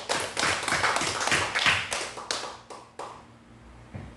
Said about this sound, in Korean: 하나님께 영광의 박수 한번 드리겠습니다